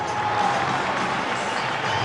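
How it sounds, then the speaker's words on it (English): A stadium crowd at a Rangers versus St Johnstone football match holds a minute's applause, a broad, distant, continuous roar of clapping and crowd noise filling the ground. "we will recognise the late great Bobby Shearer in the form of a 1 minute's applause."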